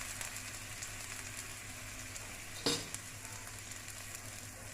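Radhuni seeds and potatoes fry in hot oil with a steady, faint sizzle, broken once by a short, sharp scrape of stirring.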